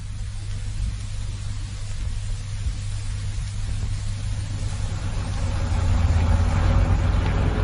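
Car driving through heavy traffic in a BBC radio drama, a constant broadband engine and road hum that swells slightly louder toward the end, with no voices over it.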